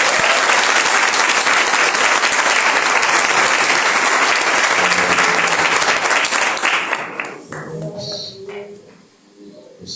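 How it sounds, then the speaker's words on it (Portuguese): Church congregation applauding together, a dense sustained wash of clapping that fades out near the end as a voice begins speaking. "Você pode aplaudir o Senhor?"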